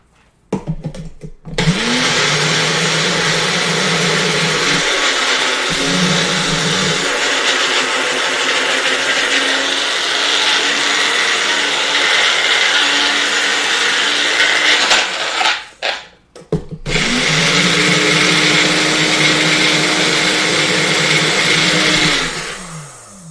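A blender blitzing chimichurri ingredients, loud whirring in two long bursts separated by a brief pause, close up with no talk.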